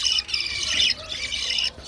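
Harsh, loud squawking from breeding budgerigars housed with four young chicks, coming in two long bursts close by with a short break between them.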